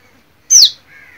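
A tiny bird gives one sharp, bright chirp up close, followed by a softer, fainter trailing call.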